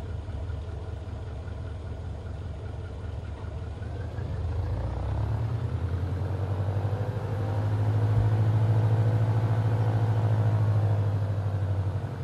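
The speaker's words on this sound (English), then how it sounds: "Robin Alpha Sierra X-ray Golf Sierra taking off runway 21 departure to the east" A Robin light aircraft engine in Microsoft Flight Simulator 2020 drones steadily, swelling into a louder, deeper rumble partway through as it runs up for takeoff from runway 21, with no voices.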